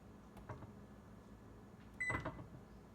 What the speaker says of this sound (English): Okay, timer started.